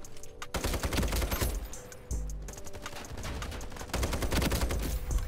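Rapid automatic fire from an SG553 rifle in the shooter game Ironsight crackles in dense bursts, with a brief pause and then renewed sustained shooting, fairly loud and without talk.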